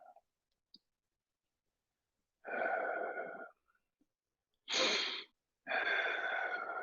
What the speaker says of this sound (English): Don't forget your ujjayi breathing here.